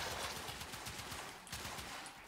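Knell Prime sniper rifle firing rapidly in the video game Warframe, a quiet run of quick evenly spaced shots forming a fast rhythmic burst throughout.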